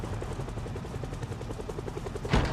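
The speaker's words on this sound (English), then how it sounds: "Is this helicopter sound modded into my game?" Helicopter rotor chopping steadily overhead in a zombie survival video game, a continuous rhythmic thump with a brief louder burst near the end.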